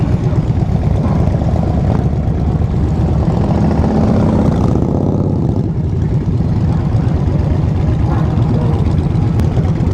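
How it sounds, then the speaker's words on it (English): Several motorcycle engines at a Laconia rally rumble and drone steadily and loudly for the whole stretch, forming a dense, continuous roar with no clear speech on top. "Nice motorcycles."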